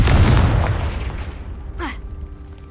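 Confringo explosive spell blast in Hogwarts Legacy, a loud booming burst that decays into a low rumble, followed by a brief swooshing magical flourish fading out.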